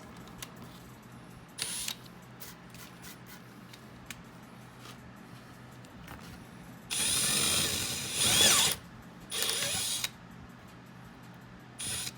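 A power drill drives a screw into a wooden serving tray, with a short whir, then a longer, louder buzzing run of about two seconds and a second brief burst, separated by quiet handling clicks.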